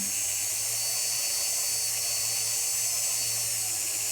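A rotary tool whines steadily and loudly as it lightly polishes the sharp edges of a Viking knit wire piece, a constant high buzz with no pauses or talk.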